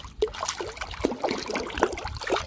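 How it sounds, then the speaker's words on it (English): Oatmeal containers rinsed by hand in lake water on a solo canoe trip along the Rideau Canal, giving close, irregular splashes and trickling dribbles of water over about two seconds. "I always just give everything a really quick rinse in the lake"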